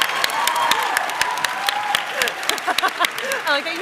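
Live audience at a PAX West comedy game show breaking into applause, a dense patter of many hands clapping close by, with voices talking over it toward the end.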